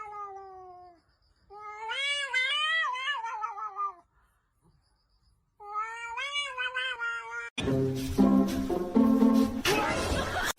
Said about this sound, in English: it's meowing at the washing machine again.